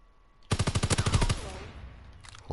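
Rapid automatic gunfire in Call of Duty WWII, a loud burst of about a dozen close shots in quick rhythm that then fades, followed by a faint brief rattle.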